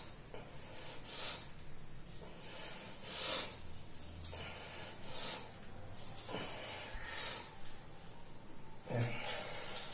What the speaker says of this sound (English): while pushing outside, take your breath in, and while relaxing, leave the breath out